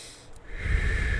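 A single forceful breath is drawn in and then pushed out in a steady, breathy rush, heard close and alone as part of a breathing exercise for staying calm.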